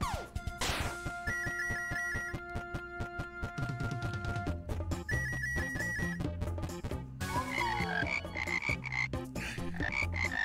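In the Frogun video game, a frog gun fires and croaks amid bright game sound effects, a busy stream of rhythmic clicks, tonal blips and chimes with no speech.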